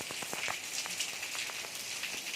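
Heavy monsoon rain pouring down in Morbi: a dense, continuous roar of drops drumming on hard surfaces, loud and even throughout with no voices.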